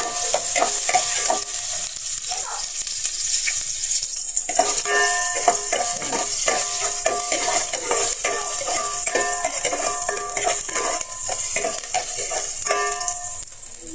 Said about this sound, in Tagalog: Gisa muna natin yung ating mga rekado. Yan, pinagsabay ko na yung ating sibuyas at saka bawang.